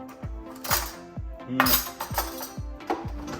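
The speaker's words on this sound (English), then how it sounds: "You're gonna take it, stir it up, scoop it out, and plop it right on the parchment." A kitchen spoon scrapes and clinks rhythmically against a pot while scooping thick no-bake cookie mixture, about eight regular metallic taps close by.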